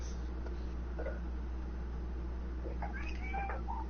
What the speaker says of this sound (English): Why the fuck are you meowing on this podcast?